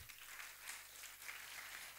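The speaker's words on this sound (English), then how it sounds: "A massive round of applause to all our innovators." An audience at a media viability and innovation event applauds its innovators, a faint, steady wash of clapping that holds evenly for a couple of seconds with no voices over it.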